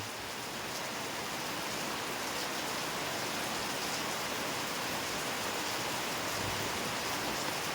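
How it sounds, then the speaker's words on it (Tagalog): Heavy rain pours steadily in an even, dense hiss that holds unchanged throughout, with no voices over it. "Tingnan nyo yung ulan mga idol, oh. lumakas talaga."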